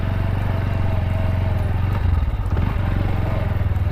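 A motorcycle runs close by with a loud, steady engine drone over the whole stretch, swelling slightly toward the middle, with faint clatter around it.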